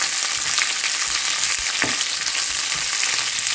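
Chopped onions fry and get stirred in a pan for idli upma, a loud continuous sizzle that fills the whole stretch with the occasional scrape of the spoon and no voices.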